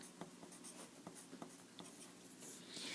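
A pencil writing an answer down on homework paper, faint soft scratching strokes in short repeated bursts, close and quiet against a low background hiss.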